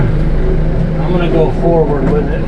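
A 4x4 truck creeps forward in low gear, hauling a 10-foot deer tower down into a draw; a steady low engine rumble runs throughout, with someone talking over it.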